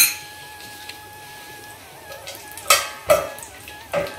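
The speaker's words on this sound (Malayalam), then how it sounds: "ചെറിയ തീയാക്കിയിട്ട് ഇത് വറുത്ത് പാറണം" Cashews fry in ghee in a pan on low heat for aval payasam, with a faint background hum broken by a few sharp metal clinks of stirring and scraping.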